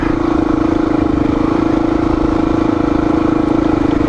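A Honda XR dirt bike engine idles steadily nearby, a loud continuous throb with an even, unchanging rhythm and no voices over it.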